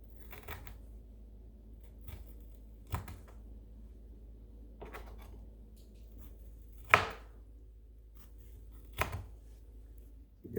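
A knife slicing lasagna ingredients into thin angled pieces on a board, sparse crisp chops spaced a couple of seconds apart over a steady low hum, growing slightly sharper toward the end.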